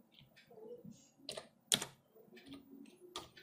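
Keys clatter on a computer keyboard as a Google search is typed, a few quiet, irregular clicks close by with one sharper keystroke in the middle.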